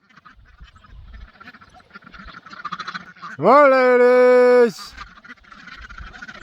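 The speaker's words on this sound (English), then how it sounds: "Ducks coming through." Domestic ducks quack faintly in the background while a person calls to them, then a single loud, drawn-out honking call rises close by for about a second before the quieter chatter returns.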